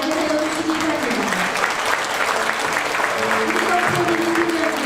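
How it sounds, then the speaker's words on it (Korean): A standing audience claps warmly as the South Korean president and his wife enter a Korean community gathering in Japan, steady dense applause filling the hall with voices talking underneath. "모두 자리에서 일어나 따뜻한 박수로 맞이하여 주시기 바랍니다."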